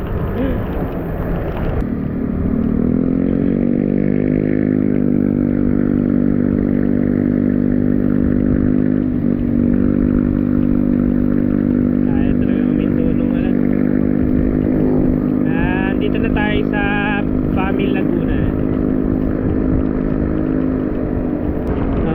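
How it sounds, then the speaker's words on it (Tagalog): A Yamaha Aerox v3 scooter cruises at speed on a long rainy ride, its steady engine drone and wind rush loud and constant, with a slight rise in revs and a clatter partway through. "mabilis yung motor eh, no?"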